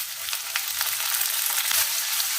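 Chopped onion, fresh peas and a medium tomato frying in a little oil, giving a steady close sizzle and crackle with faint stirring, no voices.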